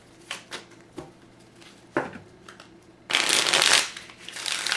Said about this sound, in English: when I'm bending them to do that shuffle